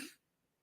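A single short cough at the very start, close to the microphone, followed by near silence and a brief sharp onset at the end.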